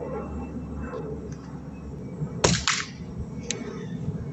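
Umarex Ruger Mark IV pellet pistol fired once, a sharp nearby crack followed by a short metallic snap, with a fainter click a second later over quiet room noise.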